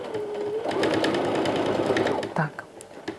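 Domestic sewing machine stitching a straight binding strip along a fabric edge at presser-foot width, a close steady mechanical whir lasting under two seconds, bracketed by brief handling clicks and quiet talk.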